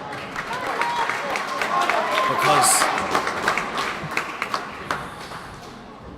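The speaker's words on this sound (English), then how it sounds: "all you can hear now, is in this packed audience here in Kingswood is all the crowd from the Banner County coming to support their 19." Packed indoor crowd in Kingswood applauding at an All-Ireland 40x20 men's handball doubles final, sustained clapping and cheering that swells then thins into scattered claps, a commentator talking over it.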